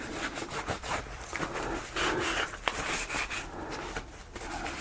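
Cloth rubbing and wiping over a PSA Dagger pistol during field-strip cleaning, a close, quiet series of scrubbing strokes with one small click partway through.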